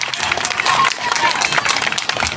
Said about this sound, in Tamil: அவங்களுக்கு எல்லாம் ஜோரா ஒரு கைத்தட்டல் கொடுங்க பார்க்கலாம்